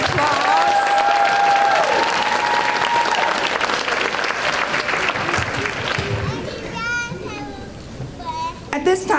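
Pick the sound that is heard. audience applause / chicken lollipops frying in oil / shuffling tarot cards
audience applause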